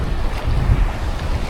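Outdoor wind on a hot 30-degree day, buffeting the microphone with a steady low rumble that swells briefly midway, with no voices.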